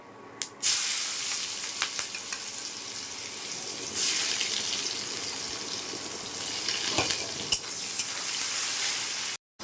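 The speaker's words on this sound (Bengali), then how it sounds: "এই তেলে আমি গোটা মশলাটা দিয়ে দিচ্ছি। একটা পেঁয়াজ কুচি দিয়ে দেবো।" Whole spices and chopped onion fry in hot oil in a pan, giving a continuous close sizzle that swells at moments, with a few sharp clinks and stirring scrapes and no talking.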